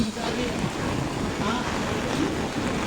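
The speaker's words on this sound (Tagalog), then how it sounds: "Ang lakas ng alon" Strong waves churn during Typhoon Kristine in the Philippines, a continuous loud roar of surf mixed with wind buffeting the microphone.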